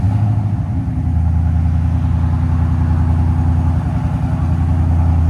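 A 2024 Ford Mustang GT with its 5.0L V8 and Valvetronic Designs mufflers idles with the exhaust valves closed, a loud, steady, deep rumble with a fine pulsing burble and no revving.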